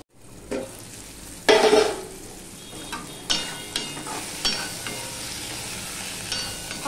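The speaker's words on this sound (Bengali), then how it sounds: "আবার এই আদা আর টমেটোটা কষিয়ে নেব ঢাকা দিয়ে দিয়ে।" Ginger and tomato frying in oil in a pan, a steady sizzle broken by several bursts as a spatula stirs and scrapes, with occasional light clinks of metal against the pan.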